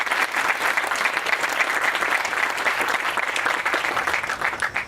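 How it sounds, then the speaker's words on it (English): Sustained applause from a crowd at a university groundbreaking ceremony at WVSU, dense steady clapping that stays loud and even from start to finish. "Let's give all of these folks a round of applause."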